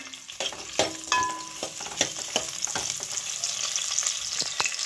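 Onion, garlic and ginger fry in hot oil for sambar, a steady sizzle broken by repeated scrapes and clinks of a spoon stirring against the pan, close and alone without voices.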